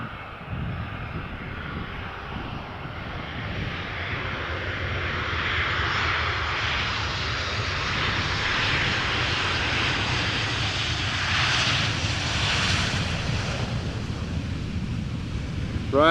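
A British Airways airliner arriving from London Gatwick at Amsterdam Schiphol roars in as a broad, steady jet rumble that slowly builds louder, with wind buffeting the microphone and no voices.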